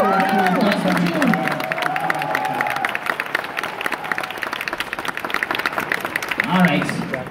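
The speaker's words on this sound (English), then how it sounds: "Same round of applause." A live audience at a MapleStory fan festival bursts into sustained applause and cheering, a dense wash of clapping filling the hall throughout, with crowd voices mixed in.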